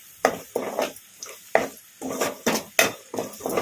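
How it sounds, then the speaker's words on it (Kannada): A spoon scrapes rhythmically through green chillies and curry leaves being fried with onions in a pan over a medium flame, making about eight sharp, evenly spaced stirring strokes with faint sizzling underneath. "ಇದನ್ನೆಲ್ಲ ಮೀಡಿಯಮ್ ಫ್ಲೇಮಲ್ಲೇ ಫ್ರೈ ಮಾಡ್ಕೋಬೇಕು"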